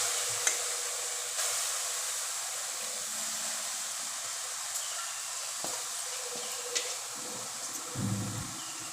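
Chopped water spinach greens dropped into a hot pan over a low gas flame give off a faint, steady sizzle with a few soft clinks and stirring noises, and a brief louder burst near the end.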